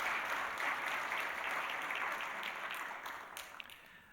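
A church congregation gives a round of encouraging applause during a Korean worship service, a steady wash of clapping from many hands that slowly fades over a few seconds.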